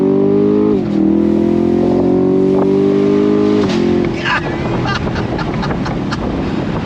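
A 2021 Chevy Camaro Shock & Steel Edition revs hard with rising pitch shifts, then gives way to rough, gravelly tire-spinning noise as the burnout continues.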